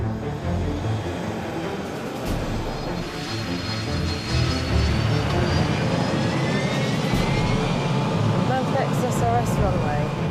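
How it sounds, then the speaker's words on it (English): An easyJet airliner rolls down the runway for takeoff, its jet engines giving a loud, steady roar that builds slightly, with voices talking faintly underneath. "you're rolling down the runway ready to take off"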